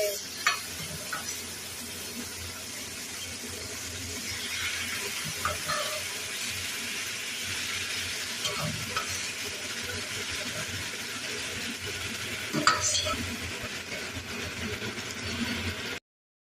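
Chicken feet fry in a pan while being stirred, giving a steady sizzle broken by scraping stirs and clinks, with running water audible at times.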